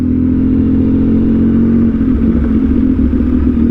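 Close, loud motorcycle engine idling and rumbling in a motorcycle parking area, a steady droning hum with a slight rise and rougher throb in the second half, no talking.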